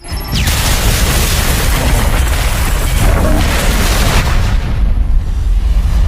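A bomb planted in a prison cell explodes in an action film, a loud, heavy boom that rolls into a sustained, rumbling blast and debris roar lasting several seconds.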